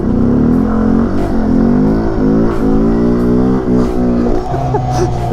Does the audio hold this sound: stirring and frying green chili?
no